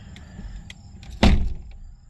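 The door of a 2019 Mercedes-Benz A220 swings shut with a single solid thud, heard from inside the car, preceded by faint handling noises and followed by a brief, soft fade.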